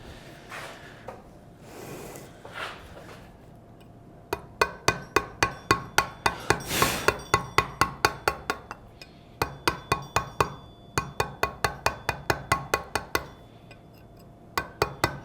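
Mallet striking a chisel while carving stone, sharp ringing metallic taps in fast, even runs with short pauses between, close and crisp after a few seconds of quieter scraping and handling.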